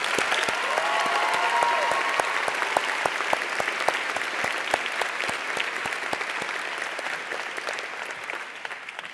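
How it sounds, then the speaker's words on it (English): An audience at a high school commencement claps in sustained applause, a dense wash of hands with sharper individual claps that gradually thin out as it fades. "Please join me in a round of applause."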